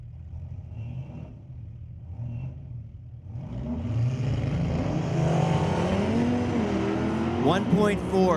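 An all-wheel drive Audi launches down a drag strip at Mission Raceway Park during street legal drags, its engine note rising as it accelerates away, with an announcer talking over the run.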